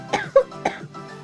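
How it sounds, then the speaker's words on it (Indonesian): A young child coughs three times in short bursts, with a faint throat sound trailing after, close and clear with no talking. "Anak kecil batuk."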